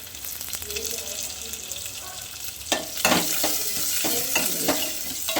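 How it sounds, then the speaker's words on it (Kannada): Crushed garlic is dropped into hot oil for a rasam tempering, giving a steady close sizzle and fry that swells with a few sharper crackling bursts partway through, heard alone without talk. "ಈಗ ಒಗ್ಗರಣೆಗೆ ಬೆಳ್ಳುಳ್ಳಿ ಹಾಕ್ತಾ ಇದ್ದಾಳೆ ನೋಡಿ ಜಜ್ಜಿ ಅಂತ ಬೆಳ್ಳುಳ್ಳಿ"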